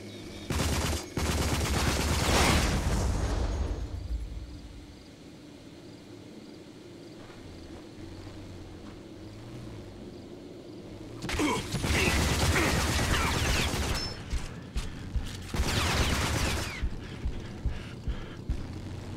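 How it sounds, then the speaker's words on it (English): Enemy gunfire in the shooter game RAGE comes as loud sustained bursts of rapid shots, one long volley at the start and two more later, with quieter mechanical ambience between them. "Somebody shooting at me."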